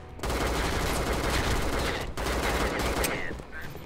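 Rapid automatic gunfire from a penguin-themed gun in a shooting video game, a dense unbroken burst lasting several seconds, loud and close.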